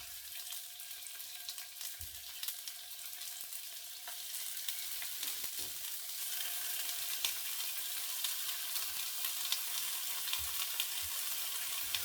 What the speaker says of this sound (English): I'm going to just gently fry them on each side in some oil